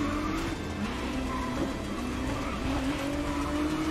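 Race car driving in GRID Legends, a steady high-revving engine drone with tyre squeal on a track, loud and continuous for several seconds, alone with no talking.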